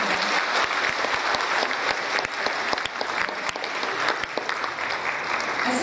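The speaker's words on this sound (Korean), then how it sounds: "박수 부탁드립니다" A concert audience at a 2012 talk-show event on Korean reunification breaks into dense, sustained clapping that stays loud and steady throughout, with sharp individual claps standing out near the listener.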